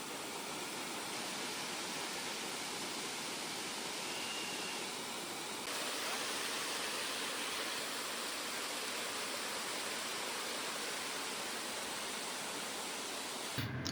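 Steady broadband rush of water pouring at Tada waterfalls, a constant loud roar that fills the whole stretch with no voices and a slight lift in intensity partway through.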